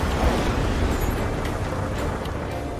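A missile explosion in the combat flight game Ace Combat 7 rumbles as a loud, sustained low boom with roaring, noisy texture throughout, no voices over it.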